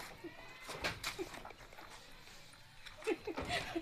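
Sheep bleating several times at close range, short wavering calls scattered through the moment alongside people talking.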